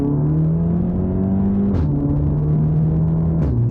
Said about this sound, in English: listen to the power and the sound that comes from those DSG gear changes